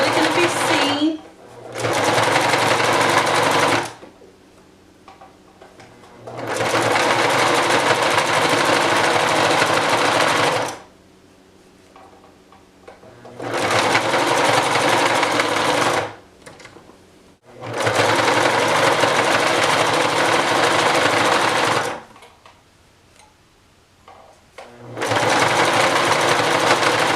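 A sewing machine runs in several long, steady bursts of rapid buzzing stitches along a pillow seam, loud and close, with short pauses between runs.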